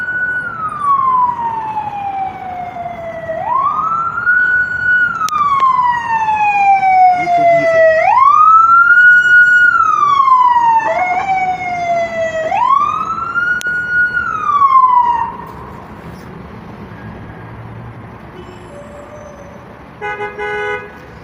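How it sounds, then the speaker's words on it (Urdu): Police car siren wailing in Dubai traffic, a loud rising-and-falling wail repeating in long sweeps with a horn toot, then cutting out to leave traffic noise. "پولیس کی وین بھی، پولیس کی گاڑی بھی اپنے قطار میں لگ گیا"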